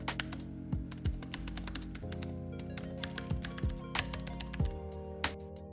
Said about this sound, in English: This is how it sounds.